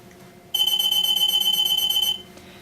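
An EM anti-theft security gate alarm at a shop exit blares as one steady, loud high-pitched electronic tone lasting under two seconds, then cuts off abruptly, with no talking.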